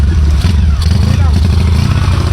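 A motorcycle engine runs close by with a loud, constant low rumble and rattle throughout, as riders travel out to go fishing.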